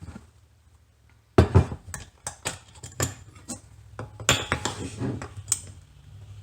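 A half-cup measuring cup knocks and clinks against a pot while sugar goes into milk for homemade cajeta, a series of irregular close metallic taps and scrapes in the kitchen with a little quiet background noise.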